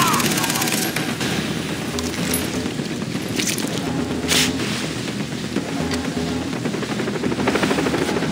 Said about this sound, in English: Dude, helicopter! Chopper!